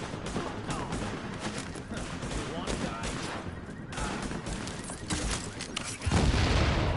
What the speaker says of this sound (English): Another delayed explosion